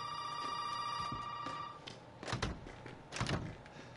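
A telephone rings in the Resident Evil 7 video game with a steady electronic bell tone over the first couple of seconds, then two heavy thuds like a door or footsteps follow.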